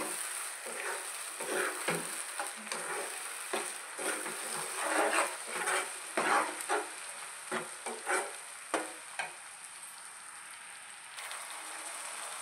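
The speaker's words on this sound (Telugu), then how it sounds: "టమాటా పేస్ట్ కూడా వేసేసుకుందామండి. వేసేసుకుని కొద్దిసేపు వేపుకోవాలి." Tomato paste fries in hot oil in a pan, giving a steady, close sizzle and crackle broken by irregular soft stirring scrapes, fairly quiet with no talk.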